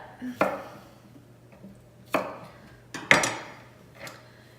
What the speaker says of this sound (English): So I always chop off the top and the butt.